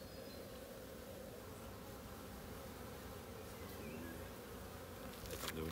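Dense, steady drone of many honeybees buzzing around an open beehive during a beekeeping hive inspection, continuous and close throughout with no talk.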